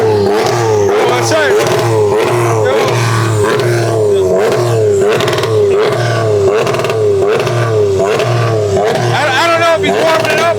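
Someone's Hoonitruck warming up, its engine revving in a loud, rhythmic cycle of roughly a dozen throttle blips that rise and fall, close and continuous, with voices faintly underneath.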